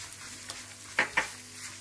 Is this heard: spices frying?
yes